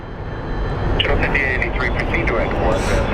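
An airliner taking off at Phoenix Sky Harbor airport gives a steady, loud broadband jet roar that holds for the whole moment, with a voice talking over it.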